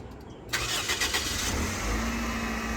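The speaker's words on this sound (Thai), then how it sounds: "ฟังเสียงเครื่องยนต์กันนะครับ" A Toyota Altis engine cranks and catches with a sudden burst, then settles into a steady, low idle close by.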